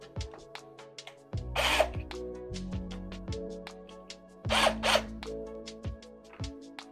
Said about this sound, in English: Very small drill bit. This is a 1/16.